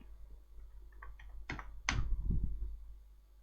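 Answers typed on a computer keyboard: a few light scattered key clicks, then a couple of sharper, louder taps and a brief burst of busier clatter, close and without voices.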